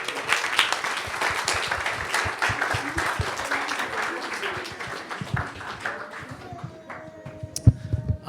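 A congregation at a Christmas church service applauds together, sustained, lively clapping that gradually thins out near the end as a few scattered claps and quieter sounds remain.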